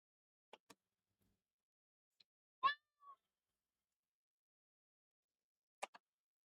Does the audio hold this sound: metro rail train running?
no